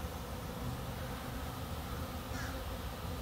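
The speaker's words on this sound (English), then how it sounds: "I don't know why all these bees are doing this. They are everywhere. Just everywhere. It's like a cloud of bees." A swarm of honey bees makes a dense, continuous buzzing that surrounds the listener and holds at one level throughout the short stretch.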